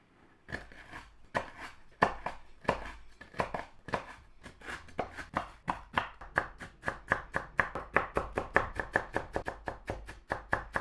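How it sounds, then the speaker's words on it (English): A knife chops through a sleeve of crunchy Oreo cookies on a board in rapid, steady strokes that speed up as it goes, close and crisp. "The next step is chopping a sleeve of Oreo cookies."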